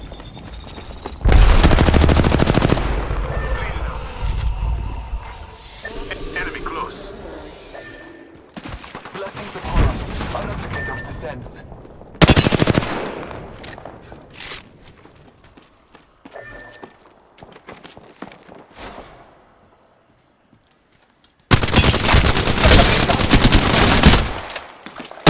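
Bursts of gunfire in Apex Legends, with rapid automatic volleys and single shots in loud clusters separated by quieter stretches of footsteps and movement, then a dense final barrage.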